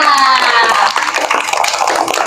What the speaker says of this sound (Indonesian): Oke, beri tepuk tangan untuk Arka.